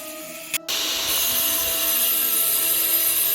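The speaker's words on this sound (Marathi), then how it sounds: "ग्राइंडर आणि कटरचा वापर करून ते जांभ्या दगडाला आकार देण्याचं काम करत आहेत" A loud grinder whines up and keeps grinding steadily, a harsh abrasive noise as it cuts laterite stone, with a brief click before it starts; no voices.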